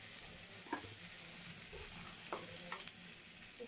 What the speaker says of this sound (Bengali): এদিকে আমাদের পেঁয়াজ আর রসুনটা ভালোভাবে ভাজা হয়ে গেছে, আর তার মধ্যে অ্যাড করে দিলাম টমেটো কুচি।